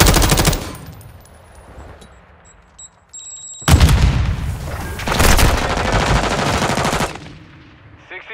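Call of Duty video game gunfire: dense bursts of rapid automatic fire in heavy, booming volleys, separated by a quieter stretch with electronic beeps, loud and close without talk.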